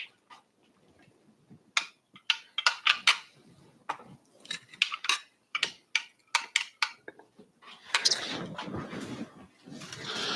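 A metal spoon stirs a layered americano in a glass, giving a run of sharp, irregular clinks and taps against the glass, followed by a denser, steadier swirling rattle near the end, close and fairly loud with no talk.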